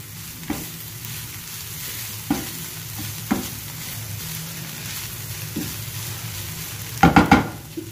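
A boiled chicken mixture stirred in a pan, heard as a low steady sizzle broken by a few separate spoon scrapes and taps, ending in a louder cluster of clinks, close by, with no speech.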